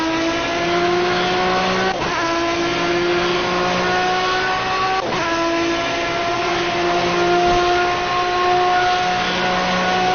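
Race cars in Project CARS during a Le Mans endurance race, a loud steady engine drone with rising and falling revs and gear shifts, tire noise underneath, no talking.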